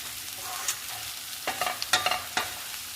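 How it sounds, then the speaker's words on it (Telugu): Sliced okra fries in a pan with a soft, steady sizzle, joined midway by a cluster of sharp spatula scrapes and stirring knocks, close up and without talk. "ఇలా ఫ్రై అయితే చాలు, ఎక్కువ ఫ్రై అయినా బాగుండదు"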